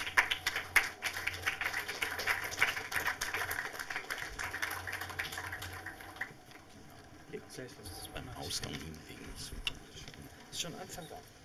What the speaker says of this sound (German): der Applaus ist natürlich wert